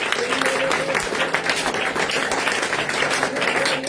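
A church congregation applauds and claps steadily to acclaim Jesus during a French-language worship service, a dense, continuous wash of hands filling the whole stretch with no pauses.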